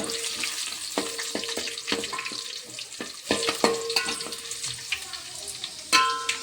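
Curry leaves and coriander fry in hot oil with a bright, crackling sizzle. Sharp pops and spatters break through repeatedly, and the stirring sounds come through clearly with no talking.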